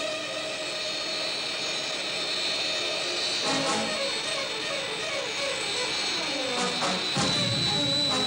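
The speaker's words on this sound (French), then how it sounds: "Fixez le câble à notre hélicoptère, Alf." A loud, steady helicopter roar with whining turbine tones and a chopping rotor texture, close and continuous throughout, no voices.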